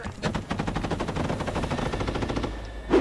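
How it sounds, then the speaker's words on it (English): A rapid, sustained burst of automatic gunfire in trench warfare in Ukraine, dense repeated shots for about two and a half seconds, then a brief pause and a final loud shot. "a moment later there's a flurry of activity and a hail of gunfire"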